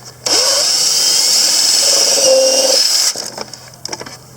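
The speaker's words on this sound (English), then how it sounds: "then I'm going to drill a hole right next to where the stud is, so it'll pop out on the other side" A power drill bores a hole beside a wooden shed stud. Up close, a loud steady whine runs for about three seconds, then stops, followed by a few faint knocks and clatters.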